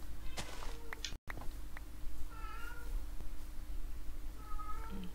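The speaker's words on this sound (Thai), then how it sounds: "ได้ยินใช่ไหมแมว" A cat meows several times in short, quiet calls spread over a few seconds, set against a low steady hum with a few small clicks and bumps, and no voices.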